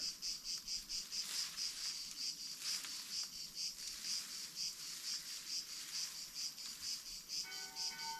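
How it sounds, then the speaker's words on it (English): A steady, pulsing cicada drone in a forest, buzzing in rapid waves throughout, with a faint tonal ring near the end. "Maybe these are cicadas and not frogs."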